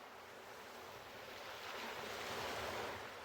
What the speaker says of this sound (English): You hear the gentle lapping of the waves against the shore